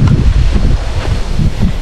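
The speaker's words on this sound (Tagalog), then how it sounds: "Tunog ng hangin" Steady wind blowing across a mountainside, a loud, continuous rushing roar with gusty low buffeting against the microphone throughout, no voices.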